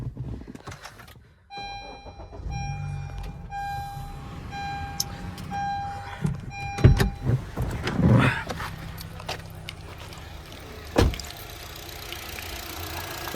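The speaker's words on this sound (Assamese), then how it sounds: "মই ইঞ্জিনটো ষ্টাৰ্ট কৰি শুনাই দি আছোঁ আপোনালোকক কি কণ্ডিশ্যনত আছে।" A used Honda Amaze petrol car engine starts with a brief burst and then settles into a quiet, steady idle, heard fairly faint and up close, with no one talking.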